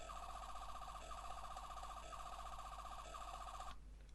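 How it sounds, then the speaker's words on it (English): Toy 11th Doctor sonic screwdriver emitting its electronic warbling buzz, four pulsing bursts looping steadily before cutting off, faint and close, with no voices. "The lights and sounds. Press it 3 times."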